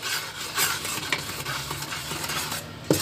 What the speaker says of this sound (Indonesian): Aduk sampai rata juga.